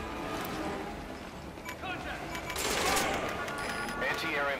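Gunfire destroying an anti-air emplacement in Metal Gear Solid V: Ground Zeroes, a burst of rapid shots building into a louder crackling blast midway, with voices talking over the game action.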